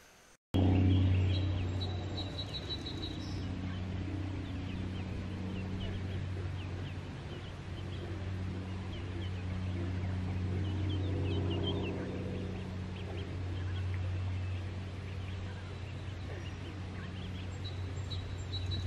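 Turkeys and ducks in a lively outdoor bird gathering, with steady overlapping gobbling and quacking calls continuing throughout at close to moderate distance, no talking.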